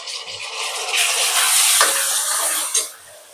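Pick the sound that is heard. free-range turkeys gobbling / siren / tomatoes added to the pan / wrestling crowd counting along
tomatoes added to the pan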